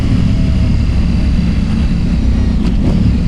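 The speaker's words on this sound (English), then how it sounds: "But John's bike, man, that thing sounds super loud." A motorcycle roars loud and close on a group ride, a dense and steady engine drone that stays level throughout with no voices.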